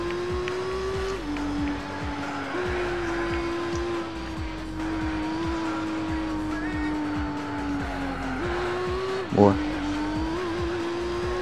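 Nissan 350Z race car in Gran Turismo 4, its engine note droning steadily with pitch dips at gear shifts and a brief sharp burst near the end, with a voice talking over it.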